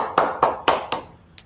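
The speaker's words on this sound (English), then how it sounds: "let's have a big round of applause for WIT Media" Four separate hand claps in an even rhythm, fairly close and loud, then one fainter tap, with no talking. They come at a company talk series event, as a short round of applause for WIT Media.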